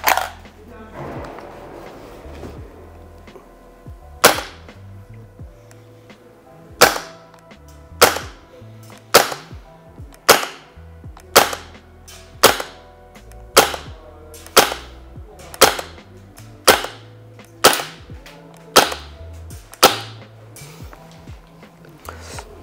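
A Krytac Kriss Vector gas blowback airsoft rifle at 145 PSI fires about fifteen sharp single shots at a steady interval outdoors, each a loud close crack with a mechanical clack, with talking in between.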